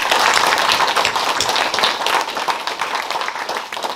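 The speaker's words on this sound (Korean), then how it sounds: "큰 박수" Audience at a Nogeun-ri Peace Park 10th-anniversary ceremony gives a dense, sustained round of clapping that fades slightly toward the end.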